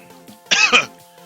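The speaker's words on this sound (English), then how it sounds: "And for some reason, I'm coughing." A short burst of two quick coughs, close and fairly loud, with a quiet hum in the background before and after.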